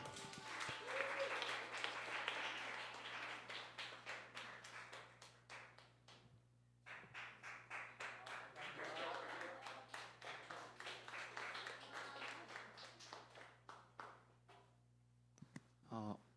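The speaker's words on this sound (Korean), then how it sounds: "3개월 동안 고생하고 온 우리 지봉 형제에게 이제 응원의 박수" Church youth group members applaud a brother back from three months of mission work in Japan, a room of scattered hand claps swelling in two bursts with a short lull between, then trailing off into a few last claps.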